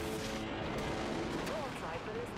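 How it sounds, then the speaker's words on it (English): Vulture missiles launch in the naval combat game Dreadnought as a steady, rumbling roar of fire that runs unbroken through the clip, with faint radio-style voices and tones underneath. "Launching vulture missiles."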